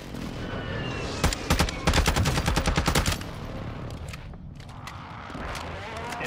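Rapid bursts of automatic gunfire from a fire mission strike in the video game Warzone, a loud dense rattle of shots over about two seconds before fading into quieter scattered pops and background noise.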